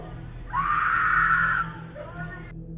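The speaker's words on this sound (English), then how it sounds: "then another scream. This time it was louder and more desperate" A woman's scream picked up by a doorbell camera outdoors, one sustained loud cry of about a second over steady background hum, fading into quiet street ambience.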